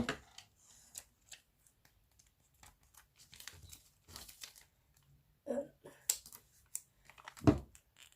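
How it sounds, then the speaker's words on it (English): Several quick snips and crinkling tape rustles, close by and fairly quiet, with scattered clicks and small handling noises in between. "I'm gonna get my scissors, cut that piece of tape"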